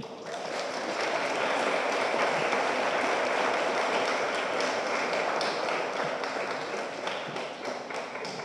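Sustained audience applause for a speaker at a talk on water distribution and climate change, a dense, even roar of many hands clapping that holds steady throughout without voices.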